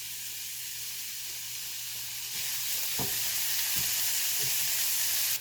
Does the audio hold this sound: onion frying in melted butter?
yes